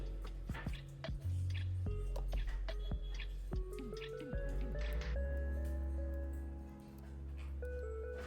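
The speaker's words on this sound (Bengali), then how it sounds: "একটু গাঢ় চাটনি ভাল লাগে, আর একটু অল্প সামান্য জল দেবো" A small amount of water is poured into coconut chutney, making close, quiet drips, gurgles and squishy wet splashes that trickle and settle over several seconds.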